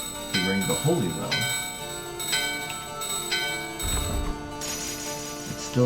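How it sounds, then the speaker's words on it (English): Holy Bell ringing in Final Fantasy IX: bright metallic bell strikes ring out with long sustained overtones, several chimes spaced across the scene, mixed with game effects and a speaking voice. "ring the holy bell"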